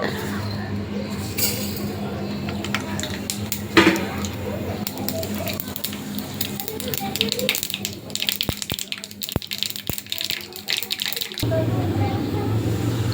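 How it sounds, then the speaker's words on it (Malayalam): Mustard seeds thrown into hot coconut oil for a tomato curry crackle and splutter, with a hiss early on and later a run of sharp, uneven pops close by, under a speaking voice. "എണ്ണ ചൂടായി നമുക്കിനി കടു ഇട്ട് കൊടുക്കാം"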